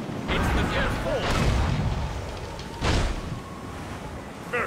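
Ship cannons boom in a naval battle in the video game Assassin's Creed Rogue, with a heavy blast near the three-second mark over constant ocean wind and surf, and game voices shouting beneath.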